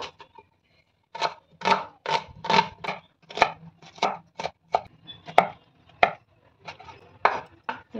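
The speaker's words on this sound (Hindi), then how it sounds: "पियाज को भलो से चुना चुना कर काटी दबा" A knife finely chopping onions on a board, a close, crisp run of quick irregular taps in short bursts with brief pauses, no voices.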